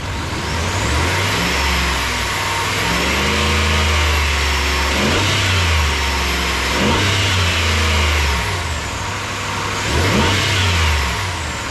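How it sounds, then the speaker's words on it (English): 2019 RAM 1500 with the 5.7L engine, close and loud, idling then revved several times in repeated rising and falling surges. "So I'm gonna go rev it a couple of times"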